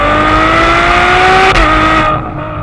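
A Ferrari 812 Superfast V12 screams up toward its high-rpm limit, loud and close, then snaps through a quick upshift and drops in pitch as the roar eases.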